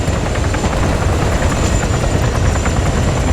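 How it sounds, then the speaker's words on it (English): Military helicopters fly in during an Arma 3 game session, a loud, steady rotor thump and engine roar sustained throughout with no voices over it. "look at the other helicopters coming in as well"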